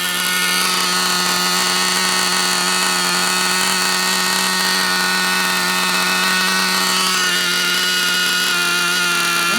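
A TNS-modified Novarossi .28-8 nitro engine, freshly unboxed on its first run, idles rich and fat with a steady, loud, continuous buzzing drone and no pauses.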